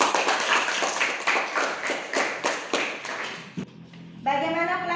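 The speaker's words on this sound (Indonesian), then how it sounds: "Beri dulu tepuk tangan" Classroom clapping from a group of students, a quick burst of rhythmic claps lasting several seconds before stopping abruptly, followed by a voice speaking.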